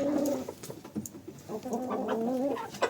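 Several chickens cluck and murmur close by in a cold coop at night, with soft overlapping calls.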